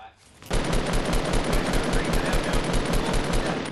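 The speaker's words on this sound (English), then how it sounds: "He's taking shots at me still" Rapid automatic gunfire from the video game Fortnite, starting abruptly after a brief quiet moment and then hammering on loud and dense with fast, steady repeated shots.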